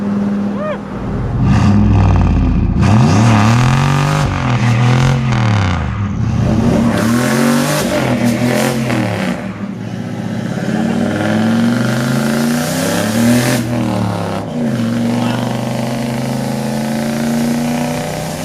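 A heavy pickup's boosted LS-swapped engine in a Chevrolet C10 revs up and down in repeated surges at moderate part throttle, loud and close, with a deep rumbling idle between pulls.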